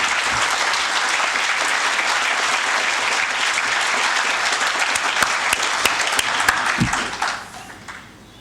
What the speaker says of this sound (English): Would you all like to give them a round of applause?